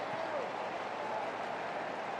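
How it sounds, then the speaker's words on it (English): US Open tennis crowd applauding in the stands, a dense, steady patter of many hands clapping at an even level for a couple of seconds, somewhat distant and without a break. "Well, this crowd, you can hear it there."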